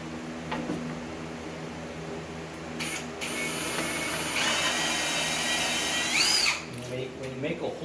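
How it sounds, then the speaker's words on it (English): A power drill whirs steadily for several seconds drilling a handle hole through a cabinet, rising in pitch near the end, with a brief high squeal as it bites through. "So then go ahead and drill it."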